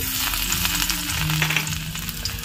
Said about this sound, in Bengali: আবার কড়াইতে তেল দিয়েছি, এবার দিয়ে দেবো রসুন কুচি